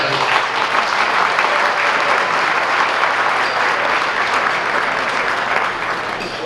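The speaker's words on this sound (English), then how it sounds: "So we can give them all a round of applause." Sustained applause from a veterans dinner social audience fills the room, loud and steady throughout, tapering slightly near the end with no talking over it.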